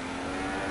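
A car engine in a racing video game roars steadily under acceleration, a loud continuous close drone with no pauses.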